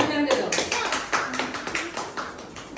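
Hand clapping at a child's third birthday party at home, a run of sharp, fairly close claps in an uneven rhythm, with voices talking over and among them.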